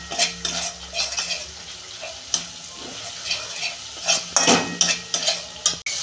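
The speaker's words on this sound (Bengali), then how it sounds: "দু মিনিট কষতে নেব আমি।" A spiced vegetarian curry sautés in a pan with a pinch of sugar, loud close sizzling broken by repeated spatula scrapes and metallic clinks against the pan.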